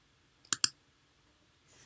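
Two quick computer mouse clicks in close succession, sharp and near, followed by silence and a faint soft rustle.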